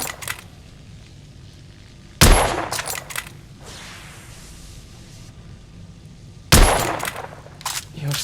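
Gunfire in the Victorian-era shooter The Order: 1886: two loud, sharp shots several seconds apart, each with a booming echo that trails off, separated by quieter ambient background.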